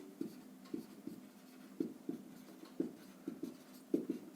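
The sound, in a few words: writing by hand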